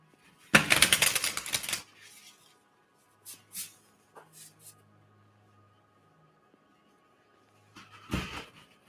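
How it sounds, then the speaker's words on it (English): A dense burst of papery tarot card shuffling up close, followed by a few soft taps and slides, then another short riffle near the end. "I'll go ahead and shuffle this once more."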